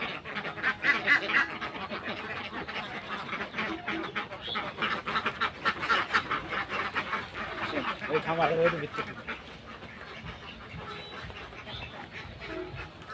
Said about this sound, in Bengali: এই পাশে দেখতেছেন হাঁসগুলা